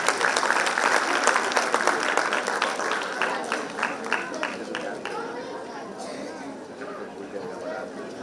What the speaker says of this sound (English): Please welcome Mrs. Neena Gala with a big round of applause.